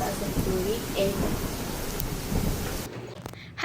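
A typhoon storm with steady heavy rain and rumbling thunder, a dense continuous roar that cuts off abruptly near the end, with a voice faintly present.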